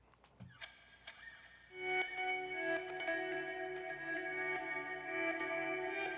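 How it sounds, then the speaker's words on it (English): Electric guitar run through a creative reverb, a few picked notes then a sustained chord blooming into long, shimmering reverb tails that hang evenly for several seconds, mid-loud with no voices. "I'm gonna open up this creative reverb"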